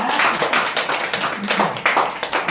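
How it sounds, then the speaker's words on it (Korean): Applause from a church congregation greeting a pastor as he comes forward, a dense, even patter of many clapping hands, close and continuous without a break. "나오실 때 박수로 맞아주시기 바랍니다"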